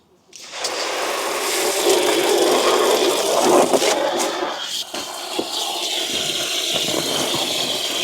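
Water from a garden hose gushes steadily into an above-ground garden fish pond with a liner, a loud, continuous splashing rush that starts abruptly and runs without pause, close by, with no talking.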